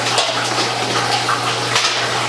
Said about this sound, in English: So we're going to fill it up, PVW, or hot water.